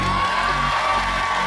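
Live concert crowd at Porto Latino festival cheering and applauding steadily, a dense, continuous roar of many people with no gaps, moderately loud throughout.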